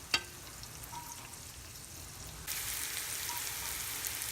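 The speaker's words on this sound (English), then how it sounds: "Let's saute these onions until it turns light brown." Onions sauteing in a pan for mutton biryani, a soft, steady sizzle that grows louder and denser about halfway through, with a brief clink near the start and no talking.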